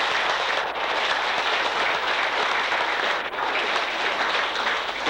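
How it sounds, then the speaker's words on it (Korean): Loud, dense applause from an audience at a Buddhist special dharma service honouring a kindergarten founder, a continuous roar of clapping with no talk. "박수 한번 주시기 바랍니다"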